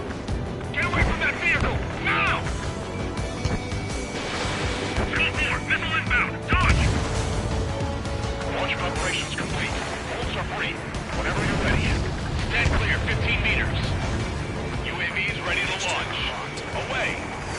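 Missiles and combat fire in Ace Combat 7: Skies Unknown, a steady wash of explosions and jet roar under dramatic music, with radio voices talking intermittently throughout.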